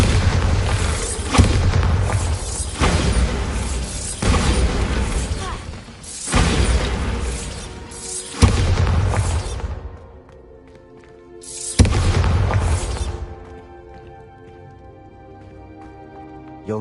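Bombarda spell blasts in the Hogwarts Legacy video game, a series of heavy booming explosions with crashing debris, several loud bursts each followed by a decaying rumble and ringing tail.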